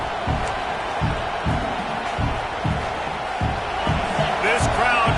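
Big crowd noise filling a packed LSU football stadium during an Ohio State at LSU game, a steady roar with swells and a few whoops, carrying on under a commentator's voice.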